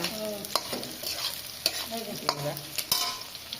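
Dried fish frying in oil with chili, garlic, onion and nigella seeds in a village kitchen, with a bright continuous sizzle broken by several close, clattering stirs and scrapes of a spatula against the pan.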